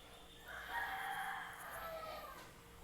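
A rooster crows once by a backyard chicken coop at a house, a drawn-out, moderately distant call lasting about two seconds with no talking.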